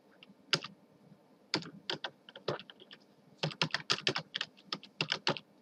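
Someone types on a computer keyboard while working in Microsoft Word, with sharp, close key clicks arriving in short irregular bursts separated by brief pauses, and no talking.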